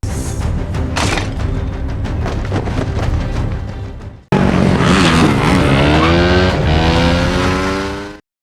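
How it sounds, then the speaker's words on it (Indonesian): Motorcycle chase from the action film Gemini Man, with loud revving engines, roaring passes and tire squeals, then a sudden cut to an even denser burst of engine and crash noise that cuts off abruptly. "Lalu Henry berusaha kabur setelah merampas motor salah seorang yang ditemuinya."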